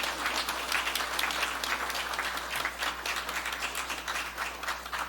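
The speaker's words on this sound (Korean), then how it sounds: "박수로 우리 다 환영하겠습니다" A church congregation at a Sunday morning service applauds to welcome the Geochang county governor, Gu In-mo: soft, steady clapping from many hands that sounds somewhat distant, with a low hum beneath.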